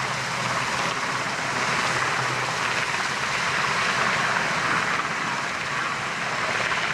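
An RAF Sea King helicopter flying a display at Waddington air show, a steady broadband engine and rotor roar at some distance, constant in loudness without distinct blade beats.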